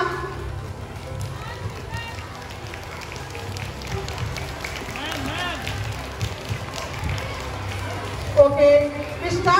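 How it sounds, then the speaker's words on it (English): Applause from a school audience at an inter-house quiz competition at St. Paul's Academy, Purba Burdwan, a dense, steady clatter of many hands that runs throughout with voices talking over it. "A big round of applause for Shrimai ma'am"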